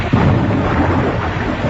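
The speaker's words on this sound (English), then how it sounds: "it started to rain and lighten and thunder in a very dreadful manner" Thunderstorm sound effect: a loud, close roll of thunder rumbling over the steady hiss of heavy rain, dense and continuous for under two seconds.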